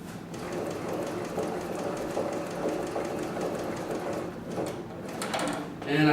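A large cylinder-bed sewing machine stitching a box pattern, running in a fast continuous rattling chatter, close and steady, easing off near the end.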